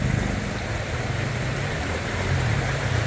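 Steady heavy rain falls on an evening in Bangkok during the rainy season. The hiss is loud and continuous, with a low rumble of traffic underneath and no voices.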